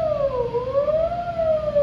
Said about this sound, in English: If I turn up the glide,